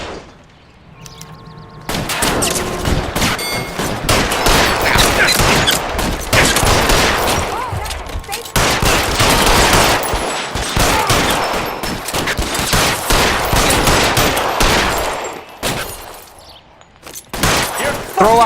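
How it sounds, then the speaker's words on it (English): Sustained heavy gunfire from a shootout in the video game L.A. Noire, loud and nearly continuous with overlapping bursts and single shots for most of the stretch, easing briefly near the end, with voices occasionally underneath. "It's gonna be a shootout, people."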